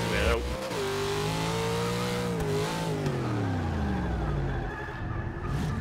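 A Plymouth Cuda drifting in Forza Motorsport 6. The engine drones close by and bends its pitch through the slide while the tires squeal, and someone talks over it throughout.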